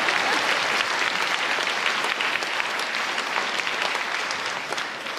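Audience applause at a lecture at Peking University, loud sustained clapping from a large hall crowd that slowly thins toward the end.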